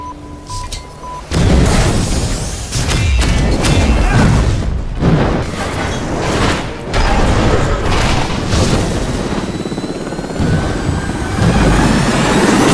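A loud, sustained film explosion of a gas pipeline, with rumbling booms and crashing debris, a roaring wall of sound that rolls on for several seconds after a quieter start.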